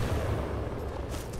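Gunfire in Titanfall 2, a dull rumbling burst of distant shots blurred into a continuous low thud across a short moment, moderately loud with no clear individual reports.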